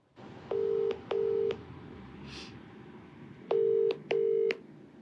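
Telephone number being dialed to place a call: four clear, evenly spaced dial tones in two pairs, close and distinct, with quiet room hiss between them and no talk.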